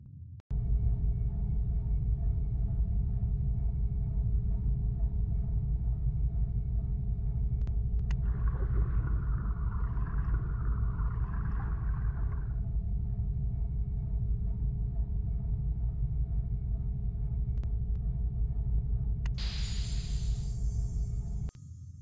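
Submarine engines running ahead full in a naval game, a steady loud low rumble and drone throughout, with a brief hissing swell midway and a short burst of noise near the end.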